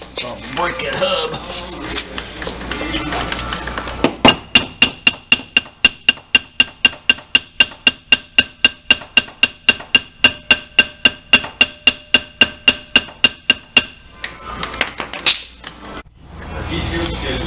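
A hammer strikes a seized brake drum on a 2002 Dodge Caravan in a long, steady series of loud, evenly spaced metallic taps, about three per second, with quieter handling noise before and after and no talk over it.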